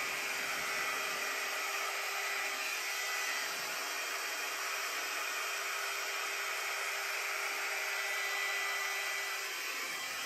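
A GHD Duet air styler blows hot air while drying hair, giving a steady, close, faint whooshing hiss throughout with no speech.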